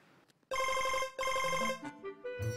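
A mobile phone rings in short bursts of bright, tonal melody, with two loud rings separated by a brief gap and a softer tune trailing at the end; no voices are heard.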